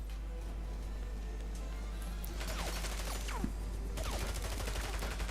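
Bursts of rapid gunfire crackle through a constant background din in the video game James Bond 007: Blood Stone, with a few sharper shots standing out among the rattle.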